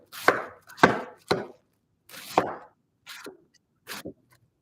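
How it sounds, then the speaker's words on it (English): A knife finely slices cabbage on a board in sharp, close chops, a quick run of three strokes followed by several more spaced cuts, with no voices. "So we're just doing finely sliced cabbage."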